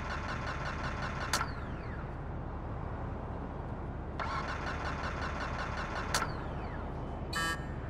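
In the game GTA V, a faulty, worn-out car engine cranks and sputters repeatedly, a steady grinding whir broken by sharp clicks and a couple of starting attempts that fail to catch.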